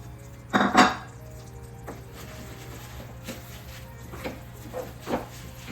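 Sesame seeds tipped into a pan of jaggery syrup and stirred with a metal spoon while making ellunda, a clattering scrape at the start followed by a few lighter metallic taps over a low steady hum.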